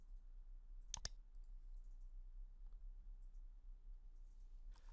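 A mouse click on an activate button on a WordPress site: one crisp double click, quiet and close, then a fainter click later over a low steady hum.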